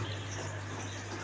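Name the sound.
water flowing into LG automatic washing machine through open valve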